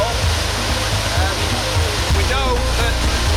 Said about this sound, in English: 60 feet high this waterfall.